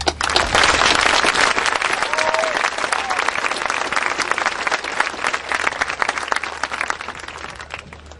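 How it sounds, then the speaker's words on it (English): A graduation crowd bursts into loud, sustained applause, close and full, with a faint voice or cheer briefly rising through the clapping. "they all deserve a round of applause"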